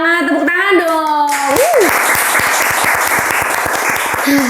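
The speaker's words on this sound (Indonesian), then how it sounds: "Tepuk tangan dong." A talk-show audience breaks into applause, crisp rapid clapping from a small group that starts after a sung, drawn-out voice and continues steadily, with a voice briefly returning at the end.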